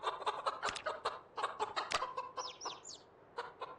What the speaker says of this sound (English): I feel like I'm still hearing stressed clucking